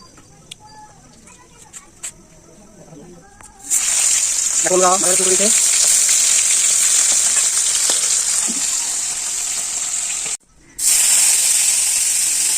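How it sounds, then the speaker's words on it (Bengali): Marinated koi fish hits hot oil and a loud, steady frying hiss takes over, briefly cutting out once near the end; before it starts there is a quiet stretch with hens clucking and a voice. "তোমার দিদিভাই ভাজা শুরু করবে"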